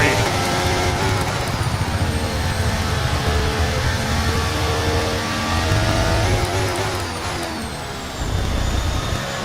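Formula 1 racing cars in the F1 23 video game at the Solar Power Grand Prix, engines droning and whining loudly and continuously as they pull into the pit lane, with commentary running over them.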